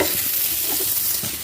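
Cauliflower being stirred into a roast masala in a pan gives a steady, soft scraping and sizzling, close and continuous, with no voices.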